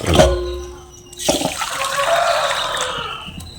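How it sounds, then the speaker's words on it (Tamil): Water is poured over pearl millet to rinse out stones. A short splash comes first, then a steady, close rush of pouring water that fades slowly. "இந்த கம்புல தண்ணி ஊற்றிக்கலாம்."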